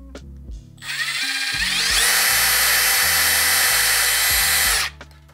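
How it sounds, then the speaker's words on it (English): A power drill whirs briefly, then bites in and runs loud and steady for about three seconds while drilling a hole in a DIY dipole antenna, before winding down, with a low hum underneath. "I do need to drill my top hole to hold it up"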